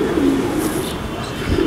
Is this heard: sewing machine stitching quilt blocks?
no